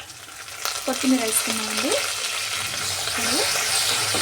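Tomato and green chilli chutney sizzles and fries steadily in a pan, a constant hiss with occasional stirring, while someone speaks over it.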